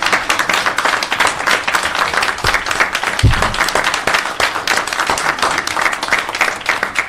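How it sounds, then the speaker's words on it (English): Audience at a city council meeting breaking into sustained applause, many hands clapping densely and evenly close by for several seconds, with a few low thumps partway through. "could I at least just ask us all to give Councilmember Smith a round of applause?"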